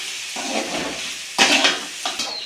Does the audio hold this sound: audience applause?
no